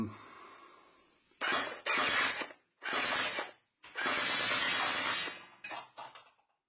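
A modded Zhenduotoys gel blaster fires at targets and a Styrofoam box, with about four loud, sharp shattering bursts in quick succession after a quiet start, each crash sounding close and harsh.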